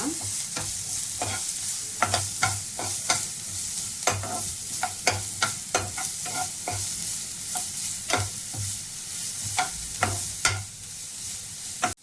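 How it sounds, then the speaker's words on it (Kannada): Finely chopped onion frying in hot oil, a continuous close sizzle punctuated by regular sharp clinks and scrapes of a spatula stirring the pan, with no talking. "ಎಣ್ಣೆ ಕಾದಿದೆ, ಅದಕ್ಕೀಗ ನಾನು ನೀರುಳ್ಳಿ ಹಾಕ್ತಾ ಇದ್ದೇನೆ."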